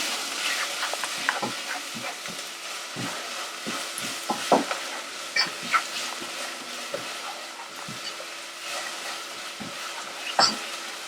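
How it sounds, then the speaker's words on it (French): Hot oil sizzles steadily in a pan while onions sweat for a salmon risotto, with a spoon clicking and scraping against the pan at irregular intervals. The sound is close, with no voices. "quand ça chante comme ça veut dire que l'huile est chaude à souhait"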